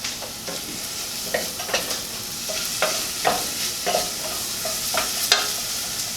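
Garlic sizzles in a hot pan while a utensil stirs it, making a steady bright hiss broken by repeated scraping clicks, close and loud with no talking, as a marinara sauce is started.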